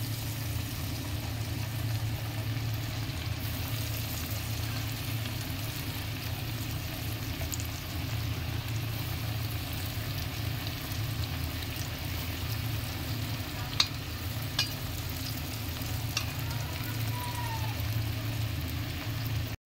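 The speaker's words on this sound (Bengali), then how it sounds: "দেখুন একটু লাল লাল করে ভেজে নেবো বন্ধুরা ধোকাগুলো" Dhoka lentil cakes fry in a pan of oil with a constant dense sizzle over a low steady hum, close and unbroken, with a few faint clinks of a utensil.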